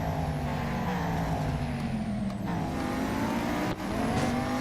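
Race car engines from the Real Racing 3 video game whine steadily at high revs, with pitch slowly rising and two sharp drops where gears shift.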